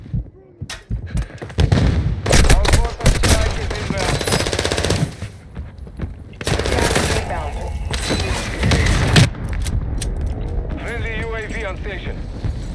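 Gunfire in a shooter video game: loud bursts of rapid automatic fire and heavy booms come in waves, with quieter gaps between them, while players talk over the shooting.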